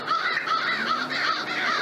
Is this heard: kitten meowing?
no